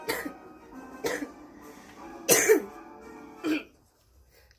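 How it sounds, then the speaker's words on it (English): A person with a cold coughs four times in short separate bursts, each sharp and close, with brief gaps between them and a quiet room in the background. "Sorry guys that I'm coughing."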